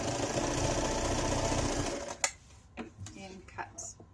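A sewing machine whirs close and steady for about two seconds, stitching a quarter-inch seam on a quilted pillow cover, then stops, followed by a few light clicks and fabric handling sounds.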